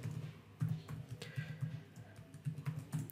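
Quiet keystrokes tap on a computer keyboard in short uneven bursts as a password is typed, close by and soft.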